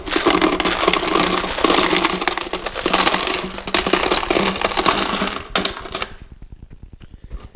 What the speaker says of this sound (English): when I pour the hardware out, it's flat enough, it's easy to sort through